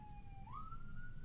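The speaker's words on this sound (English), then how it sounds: "Sirens are outside." A police siren wails outside at a distance, a single faint rising and holding tone heard through walls over a low indoor hum.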